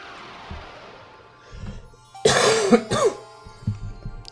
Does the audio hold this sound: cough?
yes